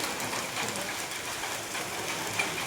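Hailstones fall steadily in Warangal, a dense, even patter of many small impacts on surfaces, fairly close and continuous with no voices.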